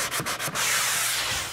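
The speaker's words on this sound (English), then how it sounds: "I use the sanding sponge to feather in the joints" Sanding sponge feathering drywall mud joints near a ceiling, a close, steady abrasive rubbing with a few quick strokes at the start before a continuous scrub that fades slightly at the end.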